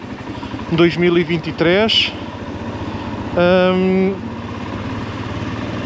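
A 2023 Royal Enfield Himalayan motorcycle idles with a low, steady, evenly pulsing thump, heard continuously beneath someone talking close by.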